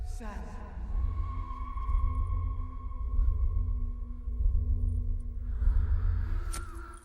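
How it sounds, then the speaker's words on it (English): A sustained, eerie electronic film drone tied to the One Ring, with steady tonal hums over a deep rumbling bed, swelling slightly and brightening toward the end. "that same drone effect comes back in the film when Frodo hasn't got the ring."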